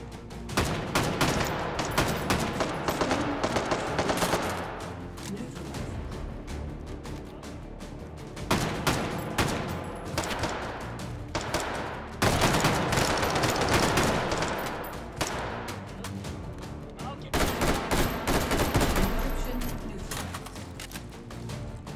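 FAL rifle fire in the VR shooter Hot Dogs, Horseshoes & Hand Grenades comes in loud, rapid bursts and fusillades, repeated across the span with short gaps, mixed with other gunfire and no talking.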